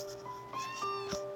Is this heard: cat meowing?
yes